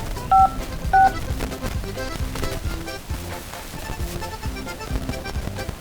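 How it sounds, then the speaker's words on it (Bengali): A phone being dialed: two short, clear keypad tones early on, followed by quieter beeps over a busy background hum. "দেখি ওই বসের কাছে ফোন দিয়ে দেখি।"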